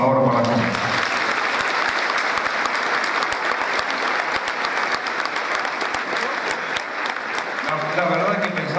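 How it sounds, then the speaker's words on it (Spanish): A crowd at a festival tribute gives sustained, dense applause lasting several seconds, with a speaking voice audible briefly at the start and end. "El aplauso, por favor, para Juan."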